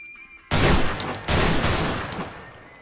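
A double-projectile gun in the Another Millenia video game mod fires with heavy recoil, two loud close blasts in quick succession, the second rolling into a long fading boom.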